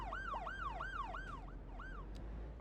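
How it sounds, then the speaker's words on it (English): An ambulance siren wails in a city-building game, Cities: Skylines II, a rapid repeating up-and-down sweep that cycles about five times in under three seconds, steady and fairly loud over a low background hum. "Okay, someone's being taken away in an ambulance."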